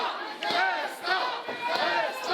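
A wrestling crowd at an intergender JCW St Honore match chants loudly for Zaestor, the massed voices swelling and dipping in repeated rhythmic bursts across a short stretch.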